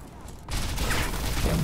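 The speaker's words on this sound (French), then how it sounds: "Je vais lancer une petite grenade." Dense, roaring explosion and gunfire noise from the Crysis 3 multiplayer video game, swelling suddenly after a quieter opening and staying loud and continuous.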